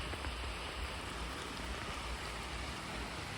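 Steady rain falls outdoors near an elephant, a continuous broadband hiss of drops with a low rumbling undertone, even in level throughout.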